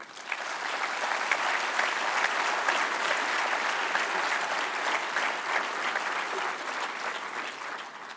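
Steady, dense applause from a congress audience at the closing session of the JA national congress 2024, saluting the organizing committee and volunteers; sustained clapping fills the whole stretch, even in level and heard alone.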